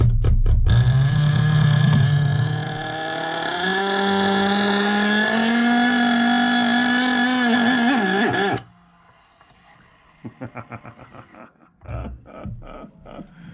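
A nitro RC engine, an NTC3 just given a carb clean and rebuild, screams in a loud high-pitched whine that wavers and rises for several seconds, then cuts off abruptly, followed by a few faint sputters and ticks.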